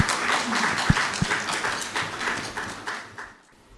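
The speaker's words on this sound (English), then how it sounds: "Michael, with a round of applause," Audience applause at a live business roundtable event, dense steady clapping from a crowd throughout, with a couple of sharp low thumps partway and a fade toward the end.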